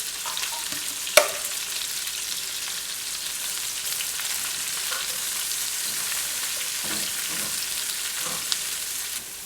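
Mushrooms and zucchini frying in a pan with steady broadband sizzle, a sharp clack of a utensil near the start and soft stirring scrapes throughout.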